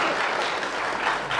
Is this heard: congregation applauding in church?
yes